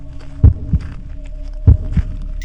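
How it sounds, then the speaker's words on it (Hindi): Two slow, deep double thumps of a heartbeat, lub-dub pairs about a second apart, over a low steady hum. "और दिल की धड़कन भी सुनाई दे रही"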